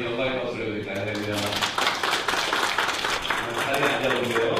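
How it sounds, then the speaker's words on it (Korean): A church congregation in Suwon clapping during a Sunday service, a broad wash of hands under music and voices, with some talk or singing mixed in. "우리 하나님께 영광의 박수를 드릴까요?"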